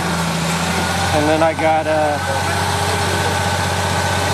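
Concrete boom pump truck engine running at a steady, loud diesel drone with a brief rise in revs, while someone talks over it.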